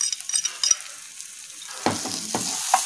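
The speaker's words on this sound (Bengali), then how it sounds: "আর এটা সামান্য একটু নেড়ে চেড়ে নেব" Garlic paste, turmeric and salt are stirred in a hot pan for prawn cutlets, with a few light scrapes, a quieter lull, then louder spatula knocks over a strengthening sizzle.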